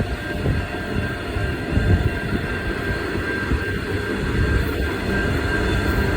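A continuous low rumble and rolling clatter of a roughly 2.3 km long freight train passing steadily nearby near Karratha Harbour, loud and unbroken throughout.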